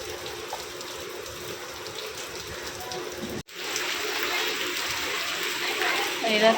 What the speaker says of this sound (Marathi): पहिला पाऊस मुंबईमधला पहिला पाऊस